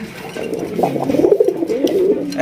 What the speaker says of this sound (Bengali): চমৎকার একজোড়া ব্ল্যাক কালারের জেড ব্ল্যাক একজোড়া ডাউকা কবুতর